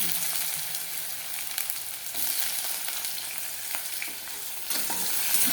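Food frying in plenty of oil for chirar polao, the flattened rice stirred in a pan, makes a continuous close sizzle with the scrape and clatter of the stirring, and no talking.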